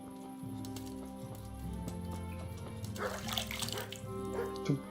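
Water splashes and sloshes in a wooden tub inside the medieval game Kingdom Come: Deliverance, a steady wet churning under a constant musical drone, with a louder splash near the end.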